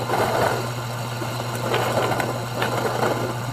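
A Niche Zero coffee grinder works through an 18-gram dose at 350 RPM, giving off a steady, moderately loud motor whir with a low hum that runs without pause for the whole stretch and no one speaking.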